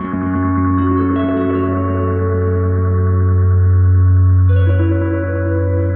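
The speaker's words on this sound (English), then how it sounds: "then I'll send the full range of my harp through the flancher for some gritty delay." A sustained, harmonically rich harp tone smeared by a gritty delay pedal, with layered echoes swelling and shifting in pitch, loud and continuous.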